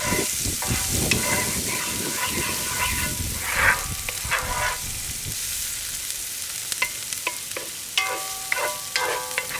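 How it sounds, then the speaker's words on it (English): Onions and smashed garlic saute in a pan, with a steady close sizzle and repeated stirring scrapes that thin out toward the end, no talk. "So we're just going to saute this about 2 to 3 minutes."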